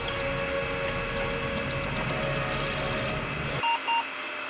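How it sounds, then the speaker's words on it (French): A computer's BIOS gives two short electronic beeps at startup, close and clear after the steady whir of the machine drops away. "ça fait bip, c'est le BIOS qui embarque"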